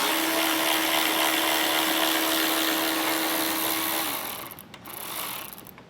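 Cordless power tool spinning out the 8mm screws on each side of a 2018 vehicle's radiator support, a steady loud whir with a tonal whine running about four seconds before it stops and a brief clatter follows.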